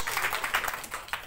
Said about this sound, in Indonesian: Beri tepuk tangan terbaik buat Tuhan Yesus.